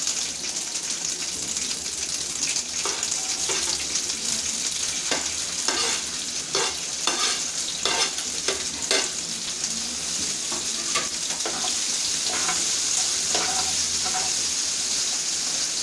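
Onions fry in a pan for red-sauce pasta, a steady loud sizzle with bursts of quick scraping stirs through the middle, with a watery hiss underneath; no speech.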